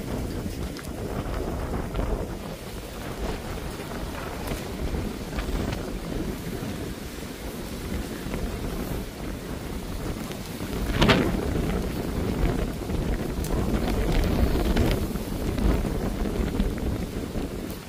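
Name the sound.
strong wind with a little rain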